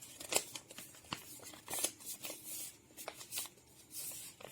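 Paper being folded and snipped with scissors for a collage, a close series of crisp cuts and crinkles in an irregular rhythm with no voices.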